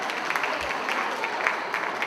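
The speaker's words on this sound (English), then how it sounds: "Give a big round of applause to all the successful ladies" An audience at a Telugu community Ugadi celebration in New Jersey applauds in a steady, moderately loud wash of clapping, with faint crowd murmur beneath.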